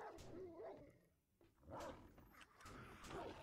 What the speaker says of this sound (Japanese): そばで犬がいるの嫌なんだが。